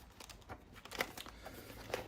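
Oracle cards being shuffled by hand, a few soft papery riffles and slaps, quiet and close, with brief crisp flicks around the middle and end.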